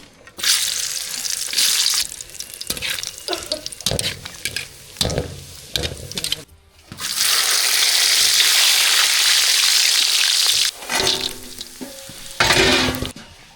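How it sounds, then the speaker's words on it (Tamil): Cashews and raisins fry in hot ghee with bursts of sizzling and scraping stirs, broken by short pauses, then a long steady sizzle before more stirring; no talking. "இப்போ நெய்யிலே வந்து திராட்சை முந்திரியை பொறிச்சு எடுத்துக்கலாம்"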